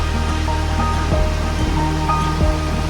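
Strong sea waves and gusty wind on a Boracay beach, heard from a hotel terrace: a loud, steady roar of surf and wind with no let-up and no talking.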